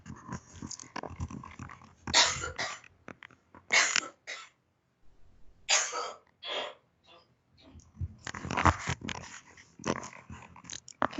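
Several bursts of harsh coughing and throat clearing come in irregular clusters with brief quiet gaps, close and fairly loud.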